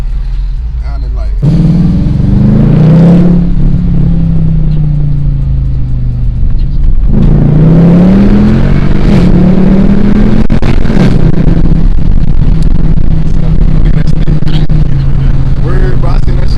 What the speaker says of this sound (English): I hear that downshift action, man.